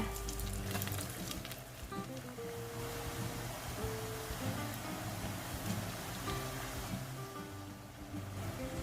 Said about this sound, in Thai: จากนั้นก็ทอดกระทะต่อไปจนกว่าจะหมดนะคะ